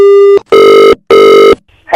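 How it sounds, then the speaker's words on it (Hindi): A telephone line gives the tone that follows a dropped call: a short tone, then two longer loud pulses with brief gaps between them, close and clear, with no talk. "शायद फोन कट गया था ना भाई साहब"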